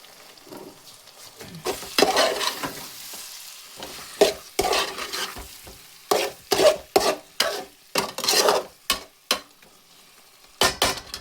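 Beef fry with black pepper being stirred in a pan: rhythmic, close spoon scrapes and clanks against the pan, roughly one every half second, over a soft sizzle, with no talking.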